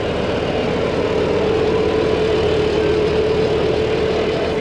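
Farmtrac 60 and Mahindra Arjun Novo 605 DII four-wheel-drive tractors, both 55 hp with rotavators fitted, their diesel engines running together in a steady, loud, unbroken drone with no voices.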